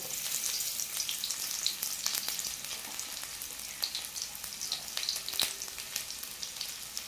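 Crushed garlic and chopped onion hit hot oil and crackle in a steady, fairly quiet sizzle with scattered pops and spits, heard close up with no talking.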